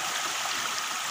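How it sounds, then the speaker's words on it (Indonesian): Spring water flowing out from between rocks and tree roots in a forest, a steady close rushing trickle with no pauses. "airnya keluar dari sela-sela akar, dari sela-sela batu"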